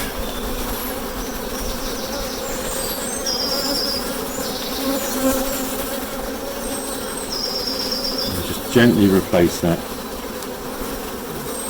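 Honeybees drone steadily and densely around an opened National 14x12 hive during an inspection, a continuous close buzz with brief louder rustles near the end and a calm voice talking over it.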